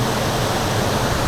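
A waterfall near a Shiva temple on a rainy day roars loud and steady, a dense broadband rush of falling water with no breaks and no voices.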